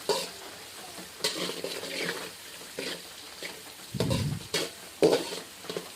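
Dry flattened rice flakes scrape and rustle as they are stirred in a large pan, in irregular bursts of soft scraping with quiet gaps between strokes.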